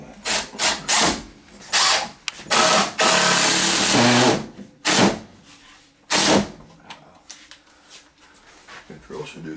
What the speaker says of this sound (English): The drill should do the work.